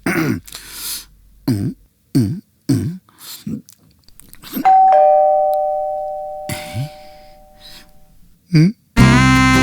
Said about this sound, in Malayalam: എൻ്റെ വീട്ടിൽ എന്നാണോ ഇതുപോലെ ഒരെണ്ണം വന്ന് കോളിംഗ് ബെൽ അടിക്കുന്നത്?